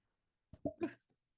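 A single short sneeze, close and fairly quiet, in an otherwise silent moment.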